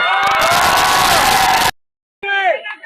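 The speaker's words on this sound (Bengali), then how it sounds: "একটা জোরে চিৎকার হবে" At a spring festival, a crowd cheers and shouts loudly for about a second and a half, then a brief silence, followed by a single voice calling out.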